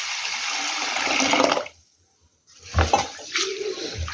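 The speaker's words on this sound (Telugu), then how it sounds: "ఫస్ట్ వాటర్ వేసి శుభ్రంగా 2-3 సార్లు కడుక్కోవాలి." Water splashes and swirls over urad dal, chana dal and fenugreek seeds as they are rinsed for dosa batter, a close broad wash that stops abruptly, falls silent briefly, then resumes in shorter sloshing bursts.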